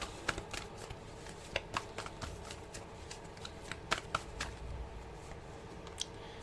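Tarot advice cards being shuffled by hand, a soft, continuous papery riffle broken by sharp flicks and taps at an irregular rhythm, close and fairly quiet, with no talk.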